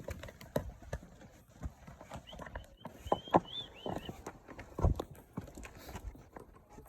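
Horse hooves clip-clop in an irregular rhythm during a horse ride in Pahalgam, Anantnag District, moderately close, with scattered background noise and a few faint voices.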